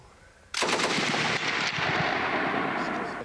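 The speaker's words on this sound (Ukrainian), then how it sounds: "Це кулемет ДП-27. старий, але в руках майстра все ще смертельний для ворогів." A DP-27 machine gun fires a sustained, loud burst of rapid shots that starts abruptly and continues without pause, booming and echoing as if outdoors.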